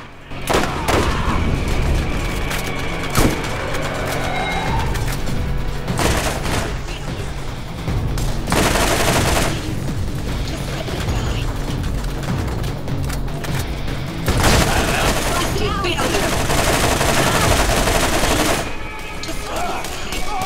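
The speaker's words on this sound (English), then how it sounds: "Semi-auto sniper." In Borderlands, semi-auto sniper rifle fire cracks out in loud repeated shots with irregular spacing, mixed into dense gunfire and explosions from a hectic battle. No voices are heard.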